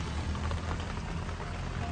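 Heavy rain pours steadily onto a tent pitched on a flat rooftop terrace, a dense, even patter with no talking.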